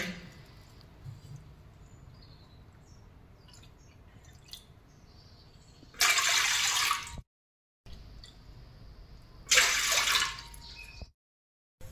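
Water is poured into a pot for making bhajani dough in two short bursts several seconds apart, each a brief, bright splashing gush between quiet stretches.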